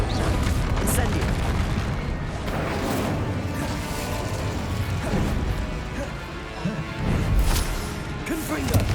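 Fire spell Incendio being cast in the video game Hogwarts Legacy: dense, continuous roaring blasts and crashing impacts with a loud burst near the end, layered with game effects and occasional voice.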